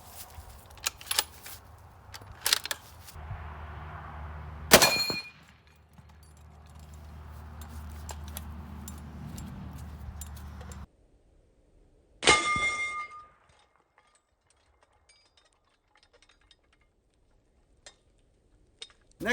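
6.5 Creedmoor 140-grain Winchester match bullets striking a steel target: a few sharp, distant metallic clangs with brief ringing, spaced apart by quiet and a low hum.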